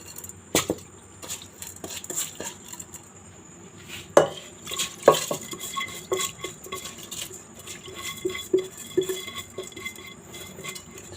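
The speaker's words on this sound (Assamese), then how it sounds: "এতিয়া কুকাৰত চাউলখিনি দি লওঁ।" Rice is tipped into a pressure cooker in a home kitchen, scattered metallic clinks and knocks of utensils against the pot, soft rustling grains in between, fairly close and quiet, with no talking.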